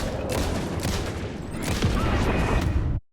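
Rapid gunfire in the video game Alan Wake 2, loud and dense bursts of shots lasting about three seconds before cutting off abruptly.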